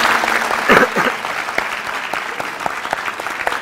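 An audience on a clarinet music show applauds, a burst of clapping that is loudest at first and then thins to scattered claps, with a voice briefly over it.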